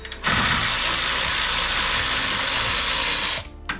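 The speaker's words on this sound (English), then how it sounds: "Those two bolts should be 10mm, and I'm gonna use my tool one more time." A ratchet loosens 10mm bolts on a Toyota Corolla E210 air intake, producing a continuous fast clicking whir for about three seconds, close and steady, with no talking.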